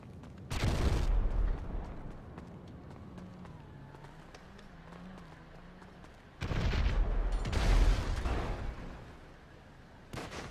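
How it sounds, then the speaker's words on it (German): Explosions go off in GTA Online, with two loud booming bursts that rumble for a moment each, plus a short thump at the end, set against a quieter background of game noise. "Da hinten ist auf jeden Fall irgendwas explodiert."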